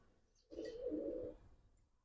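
An old racing pigeon with a 2015 ring, kept on a racing-pigeon loft, gives a single low, rounded coo lasting just under a second in an otherwise quiet space.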